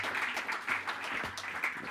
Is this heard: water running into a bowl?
no